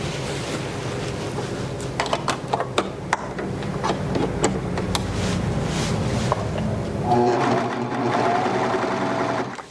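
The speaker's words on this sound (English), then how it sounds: "I'm going to take a strip of fabric and sew that seam" Bernette B48 overlock serger stitching a seam along a fabric strip, a fast steady whirring hum with sharp clicks in the first half, then a brief pause and a short final run near the end.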